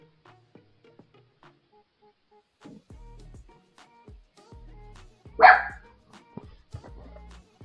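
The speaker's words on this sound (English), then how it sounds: "Y'all gonna hear the dog barking" A dog barks a few times at a distance in a quiet barbershop, with one louder, sharper bark standing out among sparse thumps.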